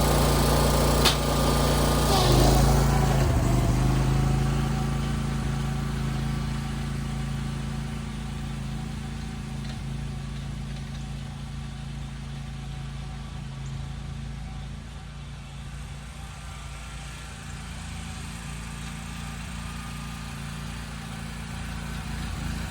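A Wright Stander X stand-on mower runs at speed, a loud close engine whine that rises sharply early on, then holds a steady droning pitch as it races away and fades a little.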